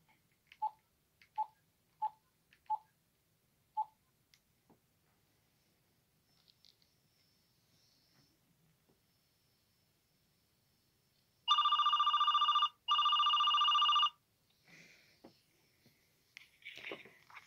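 A smartphone running Mobian Linux places a test call to a Pinephone: five short, evenly spaced beeps of dialing sound faintly, then after a quiet pause two loud ringback bursts follow, with soft handling noises at the end.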